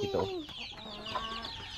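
Farm chickens being fed pellets and cracked corn from a bucket, clucking and squawking close by in overlapping calls while someone speaks briefly.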